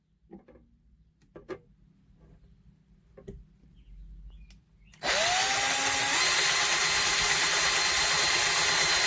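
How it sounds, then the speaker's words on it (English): A power drill bores a hole for a table flange. Several faint ticks and taps come first, then the drill starts abruptly and runs loud and steady to the end, rising briefly in pitch as it spins up. "And I gotta drill these."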